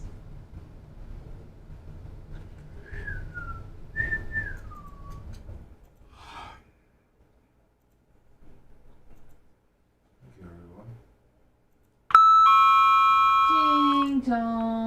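A loud, bright doorbell-style ding-dong chime rings out near the end of a radio talk show segment, after stretches of quieter talk and whistled tones.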